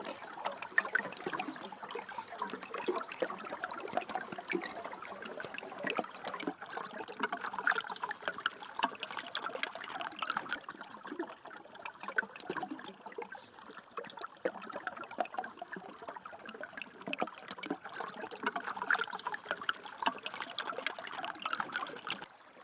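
Water trickling steadily at an off-grid homestead, a continuous soft splashing and dribbling flow that stays close and fairly even throughout, with no voices.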